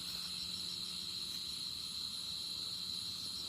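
Crickets chirp steadily through the night air in a rural Thai village, a continuous, dense shrill trill with layered high buzzing tones holding without pause at moderate level.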